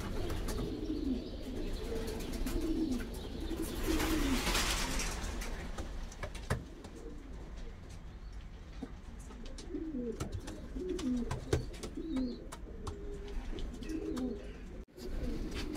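Racing pigeons coo in repeated low, throaty phrases at close range in a breeding loft, with a few faint chirps and occasional knocks in a quiet indoor space.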